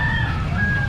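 A chicken at a Toril public market gives a brief, loud, sustained tonal crowing call lasting under a second over low market background noise.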